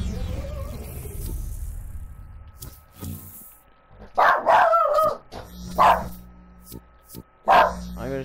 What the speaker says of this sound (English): I'm gonna switch this off because my dog's barking crazy.